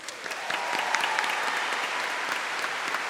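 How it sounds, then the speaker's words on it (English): Audience applause for festival panellists and interpreters at the close of a Handmaid's Tale discussion, steady dense clapping sustained throughout at moderate distance with no voices over it. "Can we have a big round of applause for the Wheeler Centre and all of the gang?"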